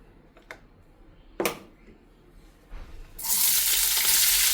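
Oil in a pan on a stove, quiet at first with a few faint clicks and knocks, then bursting into a loud, steady broadband sizzle for the final second and a half.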